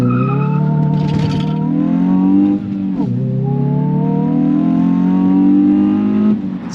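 Hyundai i20 N hatchback on a launch control start with the tyres skipping: a loud, close engine roar climbs steadily in pitch, dips briefly at a gear change, then climbs again without any talking.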